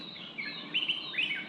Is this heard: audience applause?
no